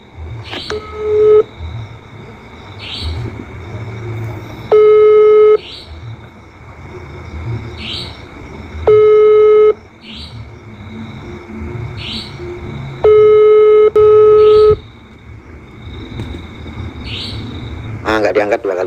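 Repeated outgoing phone call ringback on a mobile, unanswered: long steady tones in pairs and singles recurring every few seconds, moderately loud over a low background hum, with brief chirpy blips between rings.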